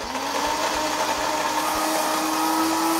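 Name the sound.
blender running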